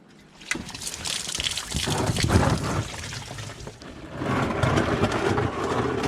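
Coolant drains from a BMW E46 engine block, an uneven gush and splash of liquid that eases briefly and then surges again, close up and without speech.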